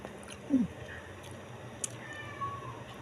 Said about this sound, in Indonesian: Kucing lagi teriak-teriak, kasihan.